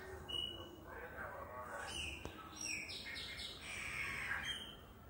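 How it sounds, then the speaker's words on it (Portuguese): A pair of chopi blackbirds (pássaro preto) singing, with clear whistled and chirping phrases trading back and forth, fairly close but quiet against a low background hiss. "Porque esse casal de pássaro preto é um fenômeno, meu irmão. É um fenômeno de pássaro."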